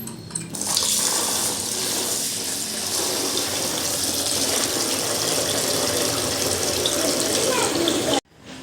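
Tap water runs steadily onto rice held under the faucet in a home kitchen, a continuous close splashing gush that stops abruptly at the end.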